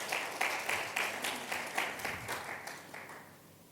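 A church congregation at a Sunday worship service applauds together, a dense wash of many hands clapping at once with a loose pulsing beat, steady and fairly loud before slowly fading.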